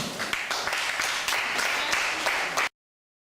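A church congregation applauding the Lord, with steady, lively clapping from many hands for under three seconds that then cuts off abruptly.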